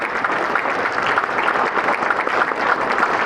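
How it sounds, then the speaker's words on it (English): Audience applause at a community event, a steady, dense wash of many hands clapping that holds evenly throughout without pause. "You could give them a round of applause."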